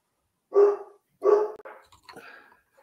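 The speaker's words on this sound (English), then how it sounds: "That's not the puppy. That's the older dog." A seven-year-old dog barks twice in close, loud succession, followed by a softer trailing yelp or whimper, with no other sound around it.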